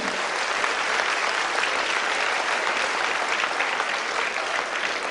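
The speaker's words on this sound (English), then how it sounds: "Big round of applause for them." A crowd at a school quiz event applauds a team with steady, loud clapping that holds at an even level from start to finish.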